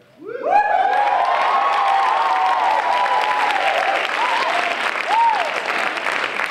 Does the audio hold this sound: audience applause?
yes